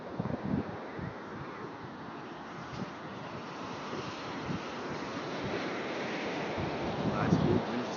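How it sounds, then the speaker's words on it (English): Waves surge and break steadily at Mahabalipuram beach near Chennai while a cool breeze buffets the microphone, giving a constant rushing wash with a slightly louder swell toward the end. "Nice cool breeze is also blowing,"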